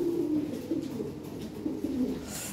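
A pair of large Lahori pigeons coo steadily at a pigeon fair, low throaty rolling calls repeating close by with no talk over them.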